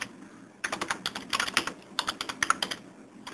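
Text being typed on a computer keyboard, with a quick burst of close, clattering key presses in uneven bunches after a brief quiet start.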